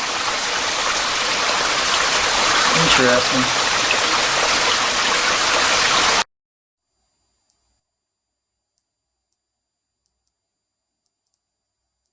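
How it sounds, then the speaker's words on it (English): Water pouring and splashing down into a caved area of a mine in a steady rush for about six seconds, then abrupt near-silence. A voice speaks briefly over the water. "all that water is dropping down in this caved area here"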